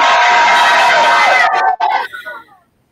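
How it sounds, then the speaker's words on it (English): Schoolchildren across Canada cheer loudly together in a dense crowd roar that breaks up and fades away within a few seconds. "Can we just start this afternoon by getting a big, big cheer from everyone in our schools all the way across Canada?"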